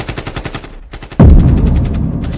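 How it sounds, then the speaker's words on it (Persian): Video game gunfire, likely from a game featuring Franklin, rattles in a rapid machine-gun burst of evenly spaced shots, pauses briefly, then a loud close blast booms and rumbles with further faint shots. "صدای تیراندازی میاد"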